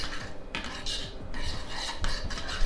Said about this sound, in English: I'm just gonna mix this together.